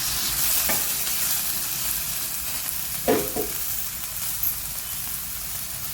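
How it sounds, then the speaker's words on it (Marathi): Tomatoes roasting on an iron griddle over a high gas flame, a constant loud hiss and sizzle with a few brief scraping knocks. "मोठ्या गॅसवर हे टॅमॅटो सुद्धा आपण भाजून घेत आहोत"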